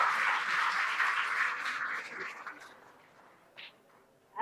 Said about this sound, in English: So big clap for Sudhaben.